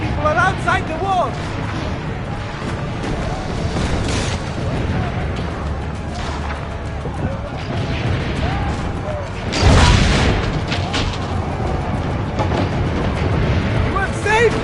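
Cannons firing in a PS4 video game during a battle at a town wall, heavy booms and blasts rolling under a steady wash of loud game noise and talk, with one stronger burst near the end.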